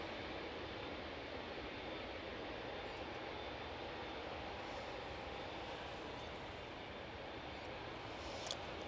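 A distant, faint jet rumble carries across Manchester Airport as an SAS airliner from Stockholm moves on the ground, a low steady wash of engine noise with no voices.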